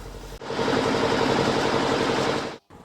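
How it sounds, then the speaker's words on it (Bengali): A fishing trawler's engine runs upstream in the Sundarbans, a steady, loud droning rumble that starts abruptly and cuts off just as suddenly after about two seconds. "তাই ট্রলার ছুটছে বিদ্যুৎ গতিতে"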